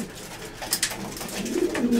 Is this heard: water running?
no